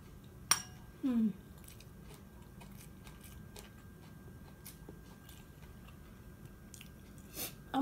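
Mouth sounds of someone eating Lao seaweed salad (laap taow) with rice, close and quiet, with a few brief crunchy bites and wet squishy chews spread over a soft background.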